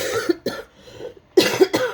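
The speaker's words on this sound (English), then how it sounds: "I still have that cough" Several loud close coughs from a person indoors, two at the start and a harsher pair near the end, separated by a short quiet gap.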